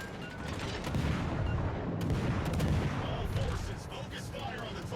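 Naval guns fire at an enemy ship in World of Warships Legends, a dense rumbling barrage of booming shots overlapping into continuous low thunder, steady and fairly loud.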